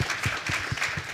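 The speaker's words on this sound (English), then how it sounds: "Let's give a round of applause for that." A live audience applauds at a creators' event in Las Vegas, a steady burst of many hands clapping, fairly close and continuous for about a second.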